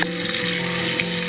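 Tomatoes cooking down in a hot pan give off a continuous close sizzle, with a light stirring scrape near the start and again around the end, no voices.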